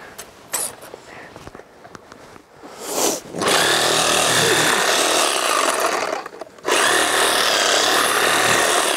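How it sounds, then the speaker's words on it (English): Reciprocating saw cutting through a deer's leg bone and tendon while processing a deer, a loud, steady buzzing grind that starts after a few seconds of handling noise, pauses briefly, then resumes at full strength. "And you can take your sawzall, cut it."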